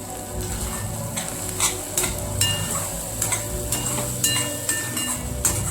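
Butter sizzling as it melts into a vegetable curry cooking in a pan, a steady frying hiss with scattered clinks and scrapes of a utensil stirring against the pot.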